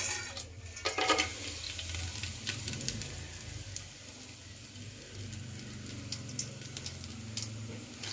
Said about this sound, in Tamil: இப்போ எண்ணெய் நல்லா சூடாயிடுச்சு. இப்போ இந்த மசாலாவை நம்ம போட்டுக்கலாம்.